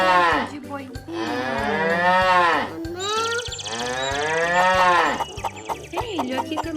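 A toy farm animal plays a loud, long ox moo, then a second moo over a repeating electronic beat and jingle.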